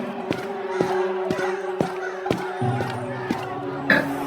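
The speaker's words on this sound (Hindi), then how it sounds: "उस औरत की बात सुनकर गांव के काफी सारे लोग बिजली की मांग करते हैं।" Animated village scene with a crowd of villagers clamoring together, a dense mass of overlapping voices punctuated by sharp rhythmic hits.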